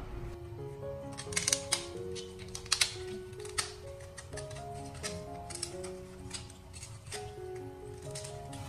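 Scissors snip scallop shells during hotel-style prep for garlic vermicelli steamed scallops, giving sharp, irregular clicks and ticks under steady background music.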